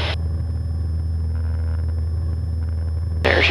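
A small airplane engine drones steadily in the cockpit during the takeoff roll, a loud even hum with faint clicks at the start and end.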